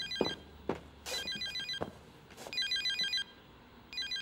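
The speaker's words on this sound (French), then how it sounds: "Ah, un coup de fil." A telephone in a TV series rings in repeated bursts of electronic trilling, interrupted by louder hits and background sounds, with no talk over it.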